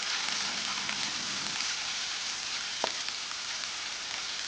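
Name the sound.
cabbage and vegetables sautéing in pan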